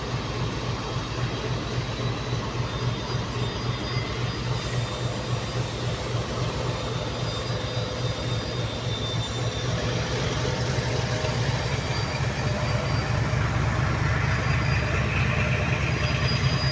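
A passenger train pulls into Dhola station on the Gandhigram–Bhavnagar route, a steady rumbling drone of wheels and engine that holds for the full stretch and grows slightly louder toward the end, with no one talking.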